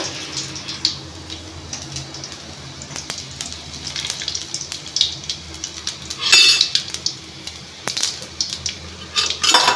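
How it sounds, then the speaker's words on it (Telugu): Spices fry in a small amount of oil in a pan, a soft steady sizzle with occasional clinks and scrapes of a utensil against the metal, close and moderately loud, with no talking. "చూసారా వేగుతుంది"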